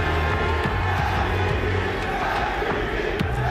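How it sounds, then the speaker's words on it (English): Dense arena crowd at a VALORANT esports playoff event, loudly chanting a rhythmic three-syllable cheer with steady roaring noise throughout. "I can barely hear a word you're saying because the crowd are chanting 3 letters."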